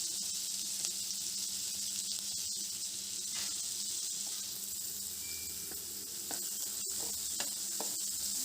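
Onions with turmeric and salt frying in a pan give a steady, soft sizzle throughout, with occasional faint clinks and scrapes and no talking.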